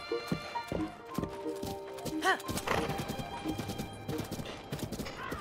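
Horse in Zelda Breath of the Wild whinnies sharply amid quick clip-clop hoofbeats, with a brief burst of other game sounds; the neigh stands out in the middle while the hooves patter on and off around it.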